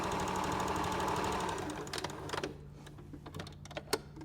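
A sewing machine runs steadily in a straight stitch along one side of a quilt block for an arrowhead star, then stops, leaving a few light clicks and handling sounds of fabric and thread. Close and fairly quiet, with no talking.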